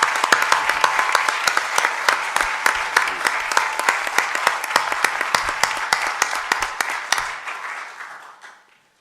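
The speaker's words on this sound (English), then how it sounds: "But Luis, I think we should applaud you first" Audience applause at a 2017 Nature awards ceremony: a dense, loud burst of many hands clapping steadily for about seven seconds, then quickly thinning and fading out.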